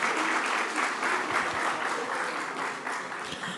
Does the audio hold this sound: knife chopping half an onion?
no